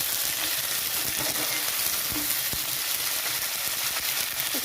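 Potatoes sizzle steadily in hot oil in a pan after ginger paste is added, a continuous loud crackling hiss with occasional stirring clicks.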